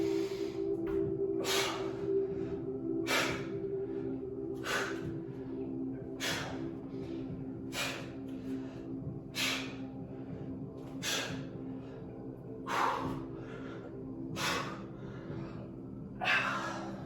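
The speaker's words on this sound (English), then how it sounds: "take a breath in" Repeated sharp breaths during an upper-body push/pull and core workout, about ten evenly spaced bursts over a steady low background hum, close and moderately loud, with no talking.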